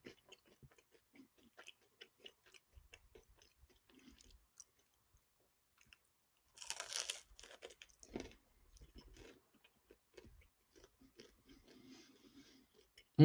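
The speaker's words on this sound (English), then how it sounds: "A very crunchy bagel today." Crunchy bagel being chewed up close, scattered soft crunches and bites with a louder burst of crunching midway, otherwise quiet.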